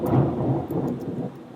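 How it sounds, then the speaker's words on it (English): Thunder from a massive storm on the Sunshine Coast, Queensland, rumbles as a steady low roar mixed with rain noise, heard alone at moderate loudness for under two seconds. "it's a massive storm going on here at the moment"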